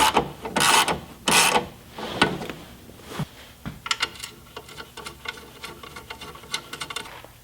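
A ratchet clicks in quick bursts while bolts are tightened on a Jeep's LED tail light cover, first with a few loud rapid runs and then lighter, faster ticking.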